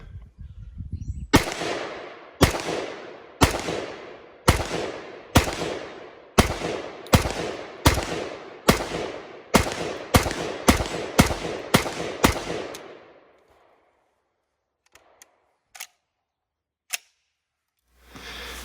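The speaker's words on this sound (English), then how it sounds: "It's a fun rifle to shoot, so smooth" Spanish CETME LC rifle fired outdoors with reloaded ammunition, about sixteen loud, sharp shots at a steady, unhurried pace, each ringing out briefly. A few faint clicks and one last crack follow after a pause.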